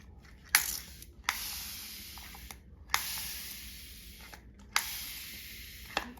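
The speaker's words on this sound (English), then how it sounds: "So I'm going to take my sprayer." A hand spray bottle mists water onto a watercolor painting during a salt painting experiment, four sharp hissing bursts, each starting with a click and trailing off, close and alone.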